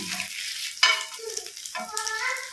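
Fish frying in a pan, a steady crackling sizzle with a sharper clatter partway through, close and moderately loud, no talking.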